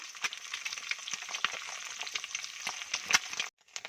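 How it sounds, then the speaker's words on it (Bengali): Two eggs fry in a wok, giving a steady crackling sizzle with sharp pops close by throughout, then it cuts out abruptly near the end. "এবার 2টো ডিম ভালো করে ভেজে নেব কড়াইতে"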